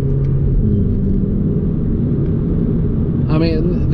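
A VW Polo GTI engine drones loud and steady from inside the car while driving, a constant low rumble with a brief higher whine near the end.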